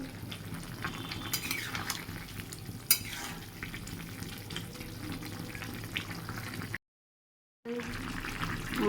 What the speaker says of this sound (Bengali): দু থেকে তিন মিনিট একটু ফুটিয়ে নেব ভালো করে এরকম হাই ফ্লেমে রাখতে হবে